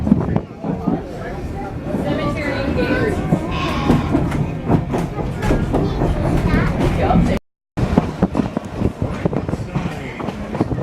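A Huckleberry Railroad train crossing a road, heard as steady rumbling and clattering from on board, with a voice talking over the noise and a brief dropout near the end.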